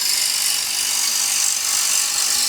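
A turning tool cuts away excess wood from a bowl blank spinning on a lathe, giving a steady, loud broadband shaving hiss that runs unbroken for the whole stretch and stops abruptly at the end.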